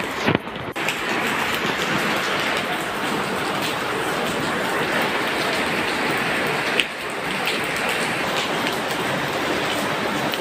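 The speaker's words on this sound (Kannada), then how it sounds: "ಕಾವೇರಿ ಜಲಾನಯನ ಪ್ರದೇಶದಲ್ಲಿ ಮಳೆಯ ಆರ್ಭಟ ಹೆಚ್ಚಾಗಿದೆ" Heavy rain pours down in a dense, continuous hiss and patter on surfaces, steady and loud throughout, with a brief thud near the start and no voices.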